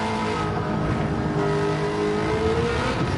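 A Pontiac Trans Am engine swapped into a car in Gran Turismo 7 drones steadily and loud throughout, with a sustained mid-pitched engine roar whose pitch slowly rises under load.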